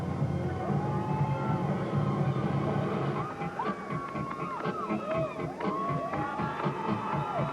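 A large arena crowd at a 1994 NCAA women's gymnastics championship cheers and whoops steadily, a loud continuous roar with rising shouts and whistles, and a commentator's voice runs over it.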